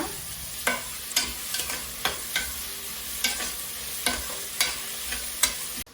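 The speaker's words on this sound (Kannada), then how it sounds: "ಚೆನ್ನಾಗಿ ಫ್ರೈ ಮಾಡೋಣ" Onions frying in a pan for pepper chicken, a constant sizzle punctuated by rhythmic spatula scrapes about every half second, close and clear, stopping abruptly at the end.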